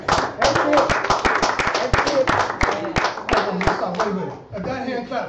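A church congregation at an ordination service claps hands in quick rhythmic bursts that stay steady throughout, mixed with voices speaking and calling out, with a preacher's voice audible near the end.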